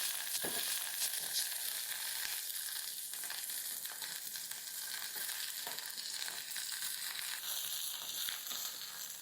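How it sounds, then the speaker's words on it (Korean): Vegetables stir-frying in olive oil in a pan, a steady close bright sizzle with occasional crackles and stirring scrapes throughout, no voices. "이제 팬에 올리브유를 두르고 순서대로 볶아주시면 돼요."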